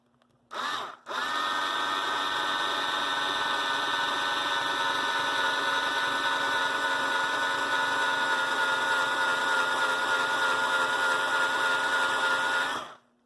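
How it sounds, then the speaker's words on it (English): A power drill with a 5/32-inch bit drilling holes in a Bachmann model hopper car starts with a brief burst, then whirs steadily at high speed for about ten seconds before stopping, loud and close. "I'm going to take a 5/32 drill bit. And I'm going to put 2 holes in here."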